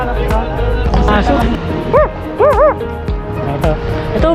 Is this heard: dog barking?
yes